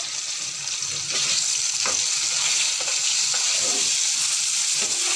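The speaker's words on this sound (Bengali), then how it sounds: "দেখো মাছ ভাজা চলছে।" Continuous loud sizzle of rohu fish frying in a pan, broken by several soft clinks and scrapes of a spatula.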